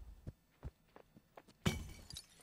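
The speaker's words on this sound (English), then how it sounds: "That is the Minecraft glass break sound, isn't it?" Glass window shattering in the game Human: Fall Flat, preceded by a few soft thuds and footsteps, then one sharp crash with a bright tinkling spray that quickly fades.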